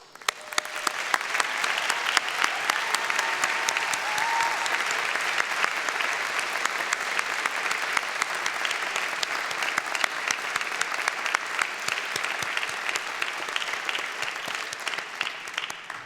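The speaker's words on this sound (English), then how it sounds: "graduates, a round of applause for the faculty" Graduates applauding their faculty at a convocation ceremony, a long sustained roar of many clapping hands from a large hall that stays full and even throughout, fading just at the very end.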